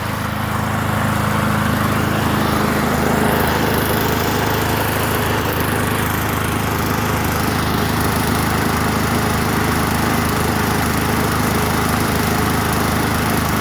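A free Murray 21-inch push lawn mower engine runs steadily up close, a loud, constant buzzing drone with no breaks.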